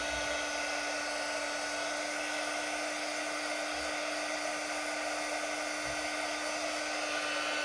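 A hair dryer blows steadily and loudly throughout, drying a wet, liquid black chalk paste on a transfer, with a constant whirring hum and no talking.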